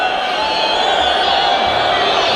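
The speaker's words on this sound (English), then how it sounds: "At first, the crowd seemed into it." A big football stadium crowd at a cup match roars and whoops continuously, a loud, sustained wash of cheering that holds steady and cuts off sharply at the end.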